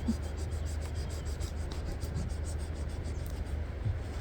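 Fabric is rubbed steadily by hand over a leaf to transfer its print, a soft, continuous scratchy friction close by, quiet with no talk.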